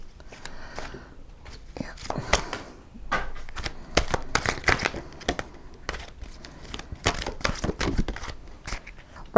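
Oracle cards being shuffled during a spring equinox card reading, rapid papery riffles and flicks in irregular bursts, close up, with soft whispered speech mixed in.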